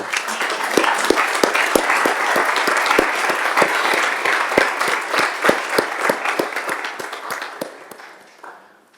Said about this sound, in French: Je vais lui demander de venir à côté de moi, sous vos applaudissements, évidemment.